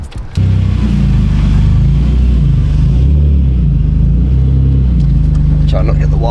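Widebody BMW E46 330Ci with a newly fitted short shifter driving, its engine a steady loud drone with shifting low tones throughout, and people talking over it.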